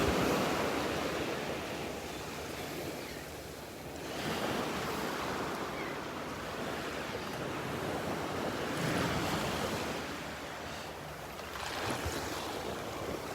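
Waves near high tide wash up on the sand at Delnor-Wiggins beach, a steady surf roar that swells and recedes in slow surges, with light wind across the microphone.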